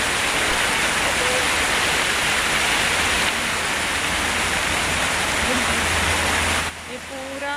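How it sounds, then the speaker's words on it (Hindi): Seawater fountain on the beachfront at Matrah, Muscat, spraying in a steady loud rushing hiss, dense and constant like heavy rain, with a brief voice and a drop in level near the end. "ये समंदर का पानी लेके यहाँ पर फाउंटेन बनाया है"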